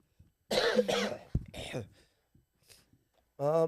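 A few harsh coughs with a throat-clearing quality, close and fairly loud, separated by short pauses, followed by a brief voiced burst.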